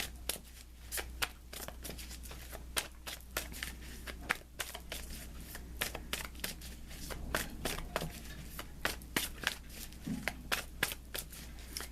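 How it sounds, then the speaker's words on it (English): Tarot cards being shuffled and drawn close to the microphone, a steady run of quick papery riffles and snaps over a low hum, with no talk. "let me pull you an additional guidance card, Aquarius"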